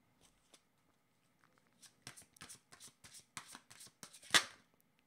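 Yellow cartomancy cards are shuffled by hand in a quiet room: a series of crisp riffling bursts and soft taps that build, with one louder flurry near the end and no speech.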